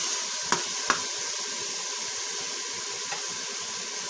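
Green beans sauté in a pan, giving a steady, soft sizzle throughout with a couple of sharp clinks near the start and a faint tap later, no talking.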